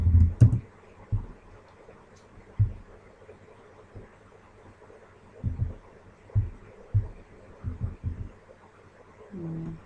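Keystrokes on a computer keyboard while typing install commands for Nagios Core 4.0.8 on Linux, heard as scattered clusters of soft, close taps separated by pauses, over a low background hum.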